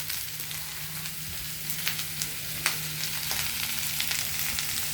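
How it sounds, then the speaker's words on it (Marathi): Chopped onion sautéing in hot oil in a kadhai for a Maratha-style black chicken curry, a steady dense sizzle with scattered crackles and occasional stirring clicks throughout. "जेवढा पटापट कांदा कढईमध्ये टाकता येईल तेवढा पटापट कढईमध्ये टाका आणि परतायला सुरुवात करा"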